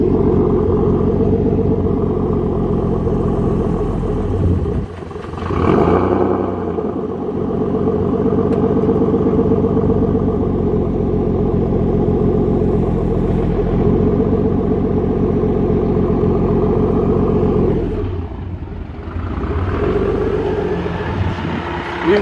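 A car driving during a wheel bearing test gives off a steady, loud low rumble of engine and road noise that dips briefly twice and carries no voices.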